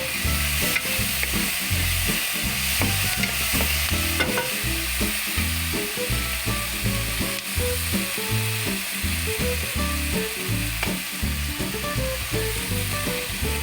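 Upo (bottle gourd) and mushrooms seasoned with ground pepper sauté in a pan: a constant loud sizzle with rhythmic spatula scraping and tapping, and no voices.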